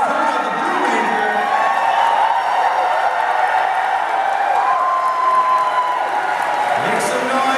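A convention panel audience cheers, whoops and applauds loudly for a Power Rangers Dino Supercharge cast member being introduced, a dense, steady crowd roar that carries through the whole stretch with a few shouts rising above it.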